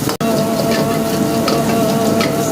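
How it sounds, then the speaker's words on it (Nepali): Chopped garlic, ginger, onion and chili sizzle steadily in hot oil, a continuous close crackling hiss with no talking, broken only by a brief dropout near the start. "काटेको लसुन, अदुवा, प्याज, खुर्सानी यसलाई चाहिँ मजाले तेल हालेर भुट्ने"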